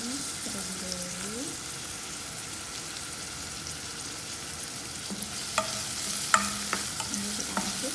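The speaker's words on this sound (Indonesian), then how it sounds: "Bawang merah dan kecilnya ditumis terlebih dahulu." Shallots sautéing in a pan for spicy stir-fried squid, a continuous soft frying hiss with occasional clinks and scrapes of stirring, under faint background music and voice-like tones.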